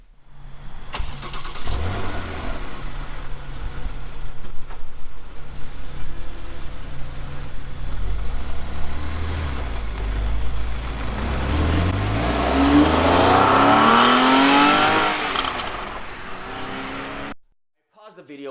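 A stock-exhaust 2015 Porsche 911 (991.1) revs hard, engine note climbing and falling through several sweeps, then building to a sustained high-pitched wail before cutting off abruptly, with pops and crackle on the overrun.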